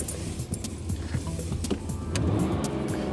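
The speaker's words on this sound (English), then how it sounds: "At this point, what I'm going to do is go ahead and start the vehicle." A car engine starts close by, with a brief whirring crank and clicks, then a fuller running rumble settling in over the last second, without talk.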